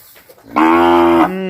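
A single loud, close moo from a purebred-grade Brahman crossbred cow, sustained and tonal for under a second, with quieter low sounds of the cattle around it.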